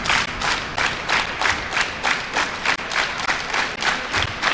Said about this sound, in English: We've got a bit of a slow clap coming from the crowd.